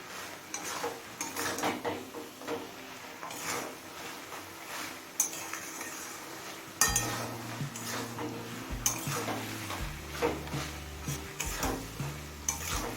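Fried lentil dumplings being stirred into cooked pumpkin greens in a pan, with steady scraping and clinking of a spoon against the pan and a soft sizzle, close and alone.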